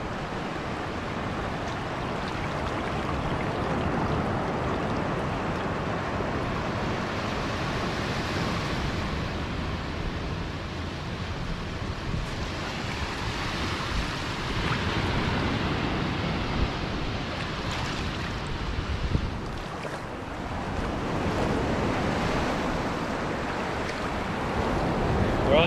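Ocean waves breaking on a beach in the dark, a steady, broad wash of surf with no clear pauses, moderately loud and fairly close, no voices.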